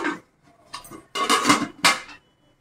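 A metal lid goes onto a simmering pot of ash gourd and coconut sweets, making a few close metallic clanks and rattles in quick succession, then quiet.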